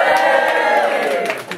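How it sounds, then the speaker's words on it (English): A comedy club audience in St Andrews lets out a loud, sustained cheer and shout together, close and full for over a second before tapering off. "Give a cheer for my mum, because it's her birthday today."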